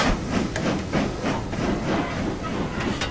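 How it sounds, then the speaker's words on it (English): Train driven in the Train Simulator 2016 game on the Weardale and Teesdale route, giving a steady rumbling run with faint rhythmic rail clicks and hiss, continuous and fairly loud with no talk over it. "I'm just going to drive the train."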